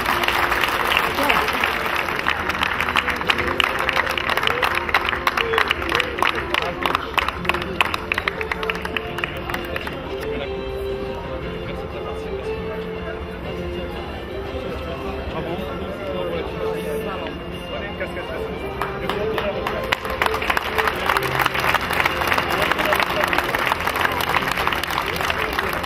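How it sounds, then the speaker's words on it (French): Audience applause and cheering at a Coupe d'Afrique des Banlieues football trophy ceremony in Épinay, with sustained loud clapping and crowd noise throughout, swelling at the start and again near the end. "on applaudit."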